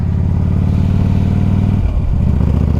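A Harley-Davidson Ultra Classic motorcycle cruises at a steady speed-limit pace, its deep, loud engine rumbling continuously with a brief dip in the note partway through, like a gear change or throttle ease-off.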